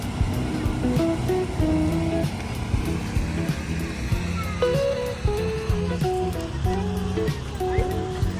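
Sea waves at La Union break and wash in a continuous broad rush, heard from close by with a low rumble and some tonal background sound mixed in.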